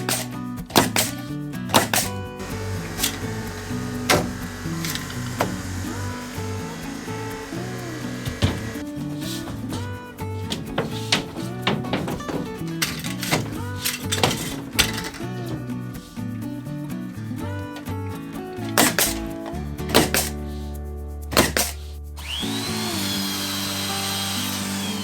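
A heavy Max high-pressure air screw machine drives screws during carpentry work on insulation and a ceiling frame. It gives repeated sharp, loud bursts in an irregular rhythm over a constant mechanical whir, close and busy throughout.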